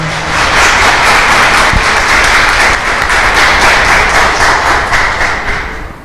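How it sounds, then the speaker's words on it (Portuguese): Loud, sustained applause from a crowd at a lecture, dense clapping that holds steady for several seconds before easing slightly at the end. "Uma salva de palmas para ela."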